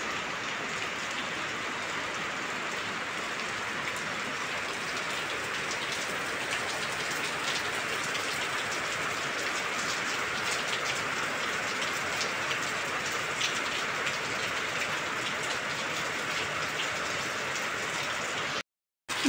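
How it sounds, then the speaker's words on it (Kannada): Heavy rain pours down in a dense, even hiss of drops striking surfaces nearby. It carries on without a break until a brief dropout at the very end, with no talking. "ಮಳೆ ಅಂತೂ ಸಿಕ್ಕಾಪಟ್ಟೆ,"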